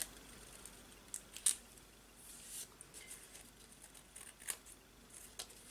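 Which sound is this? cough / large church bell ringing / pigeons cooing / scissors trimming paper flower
scissors trimming paper flower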